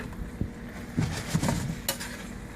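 Penne pasta with spinach and mushrooms stirred in a pan, soft scraping and clinks of a utensil against the metal at a gentle, uneven pace over a low background hum.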